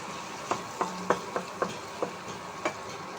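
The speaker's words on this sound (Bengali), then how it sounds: "এটা আমি অনেক চামচ দিয়ে নেড়ে দেব যেন ভর্তা ভর্তা হয়ে যায়।" Loitta shutki dried fish bharta being stirred with a spoon in a pan, giving about eight distinct scraping knocks at a loose, uneven rhythm, close up over a soft frying hiss.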